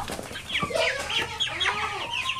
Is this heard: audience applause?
no